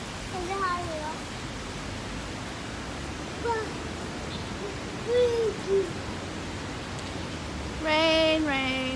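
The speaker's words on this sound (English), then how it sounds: "Can you hear the birds?" Birds nesting overhead give short, scattered chirps and calls, a few isolated notes followed by a busier burst near the end, heard over a constant background hiss of rain.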